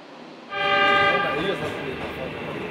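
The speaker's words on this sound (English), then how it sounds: "And with a hoot and a whistle, the train to Mombasa is off." An SGR passenger train departing for Mombasa sounds a loud, sustained horn blast that starts abruptly, then fades into a lower steady rumble of the train and station ambience.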